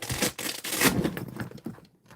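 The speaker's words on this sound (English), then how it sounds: "it's got a really good Velcro here." Velcro on a Craftsman tool bag tears open in several close, scratchy rips of varying length, loud at first and trailing off into quieter pulls.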